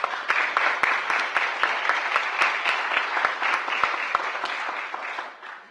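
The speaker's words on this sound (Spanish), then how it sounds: "Un aplauso, por favor." An audience applauds steadily after a request at a Spanish-language event, dense clapping with a few sharp individual claps standing out, fading toward the end.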